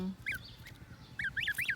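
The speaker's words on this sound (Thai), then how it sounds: "นี่ลูกห่านครบหนึ่งเดือน แข็งแรงรอดตายแล้ว" Month-old goslings give a few brief, high, nasal honks and squeaks, one early then a quick cluster of three or four near the end, close by and fairly soft.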